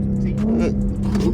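A car pulls hard in first gear, its engine droning loud and steady from inside the cabin, with some faint talk mixed in.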